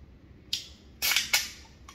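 A can of Lipton Hard Iced Tea, lemon or peach, cracks open with a sharp pop and fizzy hiss, followed by a second quick burst and a faint trailing tick, close and clear with no talking.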